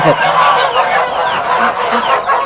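Village geese kept near guinea fowl honk loudly and continuously at close range in a dense, overlapping chorus.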